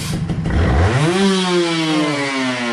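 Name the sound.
motorcycle engine revving with a reamed, tuned carburetor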